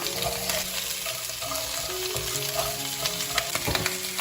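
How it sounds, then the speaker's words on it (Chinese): Pig trotters stir-fried in a wok with ginger and five-finger peach root, a loud continuous sizzle with repeated scraping and clattering of the spatula as the pieces are tossed, no voices. "把猪脚放进来继续翻炒。"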